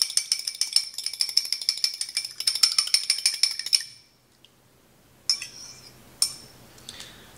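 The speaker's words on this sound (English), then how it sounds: "Go ahead and give it a whisk" A whisk beats a freshly cracked egg in a bowl for Thanksgiving dessert batter with fast, steady metallic clicking for several seconds. It then stops, leaving two isolated clinks against the rim.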